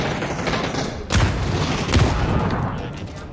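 Gunfire and grenade blasts in the battle royale game PUBG: two sharp broadband booms about a second apart stand out over a continuous dense rumble of shooting, loud and close throughout.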